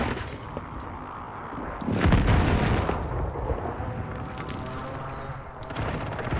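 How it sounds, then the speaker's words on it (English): Precision airstrike explosions in Call of Duty: Warzone, a heavy booming blast that hits about two seconds in and then rumbles on with crackling debris and scattered gunfire at moderate distance. "Friendly precision airstrike inbound."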